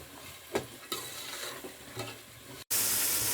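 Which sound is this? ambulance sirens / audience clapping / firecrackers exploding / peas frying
peas frying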